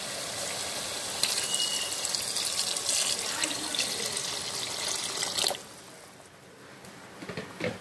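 Water from a tap or jug pours steadily into a cooking pot for a vegetable basmati biryani, a continuous gushing splash for about five seconds that then stops, leaving quieter room sounds.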